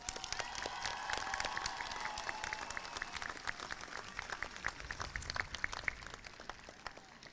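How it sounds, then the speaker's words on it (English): Commencement crowd at SUNY Potsdam applauds graduates, a broad wash of distant clapping with scattered cheers and whistles, fairly faint and sustained throughout. "Let's give them and you another round of applause for a job well done."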